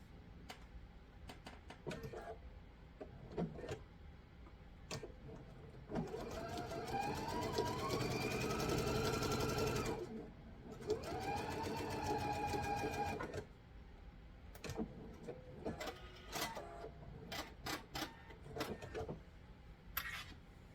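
A sewing machine stitching a quilt block at a 2.0 stitch length, running in two sustained bursts of rapid whirring stitches between quieter clicks and handling noises, close and clear.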